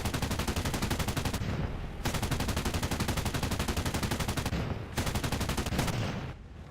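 A 20mm aircraft cannon fires in the War Thunder game in three long, rapid bursts, loud and close, each a steady stream of shots separated by brief gaps.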